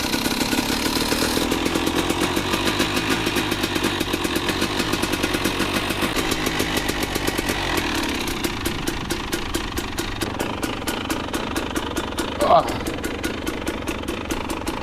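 A GasGas/KTM EC300 two-stroke motorcycle engine runs steadily after a no-spark repair, a loud, close, continuous idle with a fast rhythmic putter throughout.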